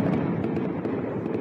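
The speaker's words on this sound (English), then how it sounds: "Fireworks light up the night sky in Kabul Tuesday." Fireworks burst over Kabul at night during a celebration, a rapid stream of crackling pops and bangs, dense and continuous, heard from a distance with no voices.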